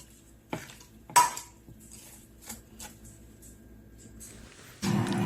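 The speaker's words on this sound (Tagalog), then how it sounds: "Tsaka lang natin siya i-mix. Haluin natin yan." Okoy batter being mixed in a bowl, with a few sharp clinks and scrapes of a utensil against the bowl, quiet stretches between strokes, and a louder burst of rustling at the end.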